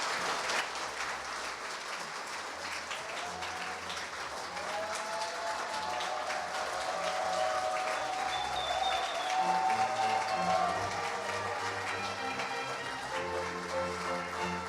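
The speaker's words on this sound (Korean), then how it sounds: "큰 박수로 수상자분들을 맞이해 주시기 바랍니다." An audience at the 34th Daesan Rural Award ceremony claps steadily to welcome the award winners, sustained applause filling the hall with music playing beneath it throughout.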